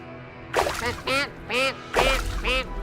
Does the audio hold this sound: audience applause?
no